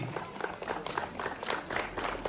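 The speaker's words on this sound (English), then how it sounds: "please give a huge round of applause to our Archana Sanyasi" Audience applause at a school investiture ceremony, a steady patter of many hands clapping throughout, moderately distant and fairly soft.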